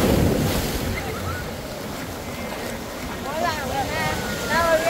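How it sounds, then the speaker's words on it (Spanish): Ocean waves surging onto a beach, a steady broadband wash with wind buffeting the microphone, while people talk and shout loudly over it. "Porque llega la ola."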